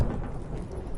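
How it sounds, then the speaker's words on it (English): Thunderstorm at sea in The Witcher 3, a continuous low rumble of thunder with steady rain hiss, dense and unbroken, no voices. "Didn't bargain for no storm."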